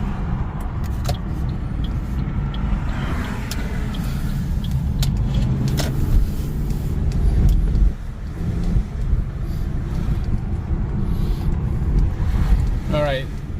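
Cabin and road noise from a Toyota RAV4 on a test drive after a repair for a clunk and grind, a steady low rumble with wind noise and a few faint clicks, and a voice speaking at times.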